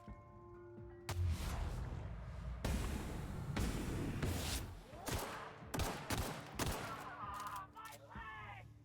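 Pistol fire in The Outer Worlds video game, several loud sharp shots in quick bursts over continuous game ambience and effects, with a voice speaking faintly in the background.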